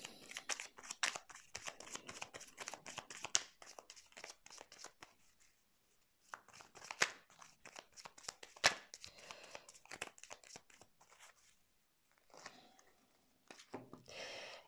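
Tarot cards shuffled by hand for a reading: soft, close riffling and flicking in irregular bursts separated by brief quiet gaps, fairly faint, with no talk.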